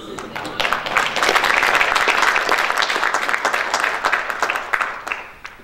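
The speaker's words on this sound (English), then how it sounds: "That's a good time to clap your hands." A crowd at a religious speaking event claps hands together, the applause swelling quickly into a dense, sustained roar before tapering off toward the end.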